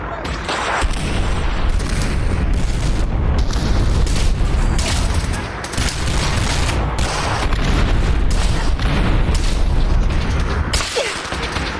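Relay grenades exploding in Fallout 4 VR, a rapid string of loud booming blasts and crackling bursts filling nearly the whole stretch, with dense rumbling between the hits.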